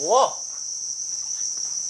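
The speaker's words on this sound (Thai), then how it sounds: "ในนี้จะบอกว่านี่คือจิ้งหรีดทั้งหมดเลยนะครับ" Crickets bred on a cricket farm kept in aquarium-style tanks, chirping with a steady high-pitched trill throughout, close and clear, with a brief whoop-like sound near the start.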